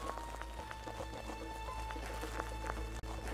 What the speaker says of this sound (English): It's a beautiful Arabian horse.